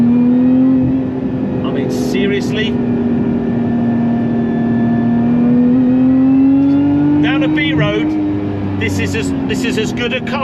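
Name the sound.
Lotus Emira V6 engine accelerating on track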